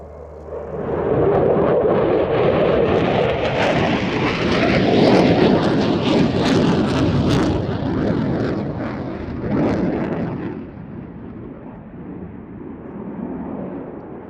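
Loud, sustained jet roar from afterburning EJ200 turbofans at an RAF Cosford air show, swelling and holding steady for about ten seconds before easing off as the aircraft pulls away.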